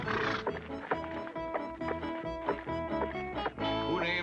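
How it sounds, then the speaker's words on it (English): A horse neighs loudly at the start and again near the end, with hoof clops and rustling movement in between. "Who named his horse Lightning?"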